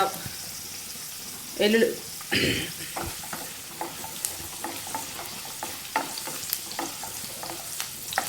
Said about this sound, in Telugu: వెల్లుల్లిపాయ కొంచెం లైట్గా వేగుతుందండి